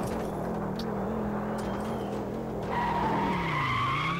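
A fast car in the Extreme Car Driving Simulator video game skids with a continuous tire squeal over a steady engine drone, the engine pitch rising near the end.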